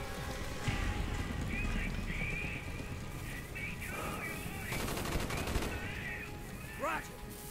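Automatic gunfire in Call of Duty: Black Ops, rattling bursts with dense crackling volleys mid-clip, fairly quiet overall, with voices talking over it.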